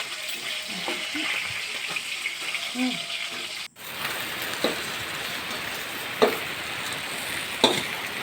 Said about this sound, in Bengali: এবার মাছগুলোকে ভাজা হয়ে গেছে, আমি এবার তুলে নেব।